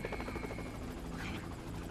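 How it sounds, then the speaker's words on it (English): A helicopter in Grand Theft Auto V churns with a dense, rapid rotor chop and a broad roar, steady and close, with a faint voice underneath. "Am I right in thinking Mr. Duggan is being evacuated in a helicopter"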